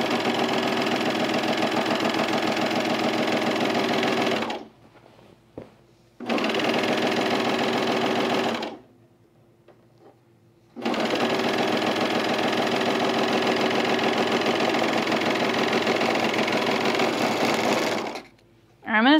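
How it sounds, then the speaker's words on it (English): A serger overlocks the hems of chino pants in three long bursts of steady, loud whirring, broken by two short pauses with a little handling noise. "I'm gonna serge these hems right now"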